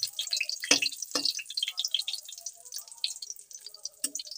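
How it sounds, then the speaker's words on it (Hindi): Cumin, red chili and bay leaf sizzle in hot oil in a wok for a restaurant-style chicken gravy, giving a close, steady crackle with sharp spits and pops and no talking. "कढ़ाई में हमने तेल डाल लिया है और अब हम इसमें डालते हैं जीरा, लाल मिर्च, तेज पत्ता"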